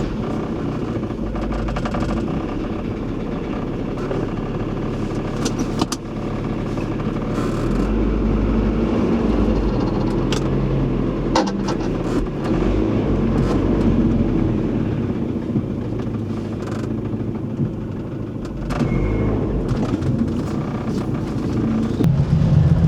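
A Volvo 940 Turbo runs on a test drive after fuel pump and filter work, with a steady low engine and road drone from inside the cabin, occasional bumps and rattles, and the level rising as it picks up speed.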